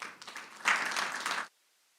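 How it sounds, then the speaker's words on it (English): Audience at a city council meeting claps for a retired fire chief, a short, fairly faint burst that swells then cuts off abruptly, leaving silence. "Again, a big round of applause."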